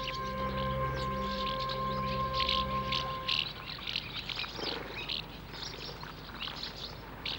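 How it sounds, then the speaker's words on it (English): Migrant birds from Africa gather mud for their nests beside a lake near a cafe, calling and chirping in a busy, high twittering chorus over a steady droning hum that drops away partway through. "these migrant birds from Africa find the mud for their nests"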